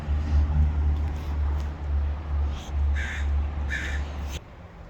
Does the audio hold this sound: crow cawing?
yes